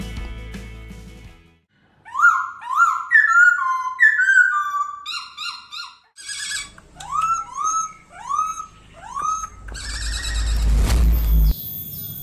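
Hong Kong laughingthrush, a poksai songbird, sings a varied run of loud whistled phrases and rising chirps, close and alone, with a brief pause before a final burst of song over rough background noise.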